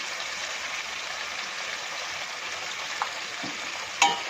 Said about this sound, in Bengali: মশলা দিয়ে সব কিছু দিয়ে নুন হলুদ দিয়ে আলুগুলো দিয়ে কষানো হয়ে গেছে।